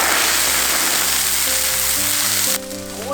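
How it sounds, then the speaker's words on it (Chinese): Water hits a hot wok of oil and caramelized sugar before ostrich meat is braised, giving a loud, steady hissing sizzle that cuts off sharply near the end, with faint tonal sounds underneath. "加水，"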